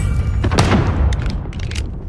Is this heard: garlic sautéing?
no